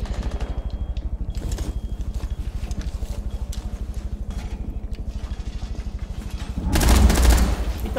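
Rapid, continuous bursts of gunfire in Rainbow Six Siege rattle in a fast rhythm, with a louder heavier burst near the end, fairly close and loud.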